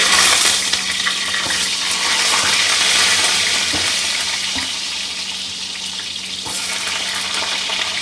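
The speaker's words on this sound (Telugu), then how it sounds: "ఇప్పుడు ఇందులోకి మనం కట్ చేసుకున్న ఈ టొమాటోస్ అండ్ ఆనియన్స్ ఉంటాయి కదా, అవి వేసేసుకోవాలి." Chopped tomatoes and onions fry in hot ghee in a steady, loud, close sizzle that holds for several seconds, with faint clatters of stirring.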